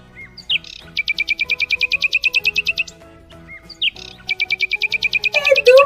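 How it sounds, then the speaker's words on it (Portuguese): A small bird chirps in two bursts of rapid, evenly spaced high tweets, each run opening with a single call, loud and close with a quiet pause between the bursts. "É do passarinho!"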